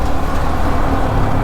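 Busy Hyderabad road traffic rumbles close and loud, a dense, continuous wash of engines and passing vehicles with no talking.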